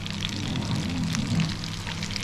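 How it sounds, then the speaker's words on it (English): Garlic sautéing in a pan for a rock lobster dish, a soft, steady sizzle and crackle of frying oil, quiet and continuous with a low hum underneath and no talking. "we're just going to saute this so it gets nice and brown"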